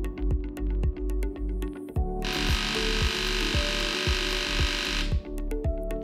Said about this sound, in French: Si vous entendez ce bruit, il n'y a pas d'eau dans la pompe.